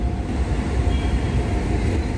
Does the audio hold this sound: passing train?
yes